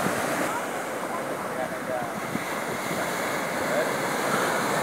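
Sea waves wash onto La Concha beach in San Sebastián, a continuous broad surf roar with some wind, steady and moderately close throughout.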